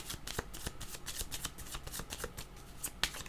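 Tarot-style cards are shuffled and drawn for a reading, with a rapid run of close, crisp riffling flicks and slaps in a busy irregular rhythm, quiet and without voices.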